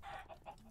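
Chickens in the video game Minecraft give a few quick clucks in close succession. The sound is short and fairly faint.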